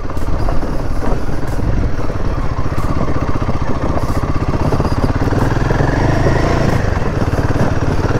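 A motorcycle engine labors steadily while riding off-road up a mountain trail, a loud, continuous droning rumble with no letup and no voices.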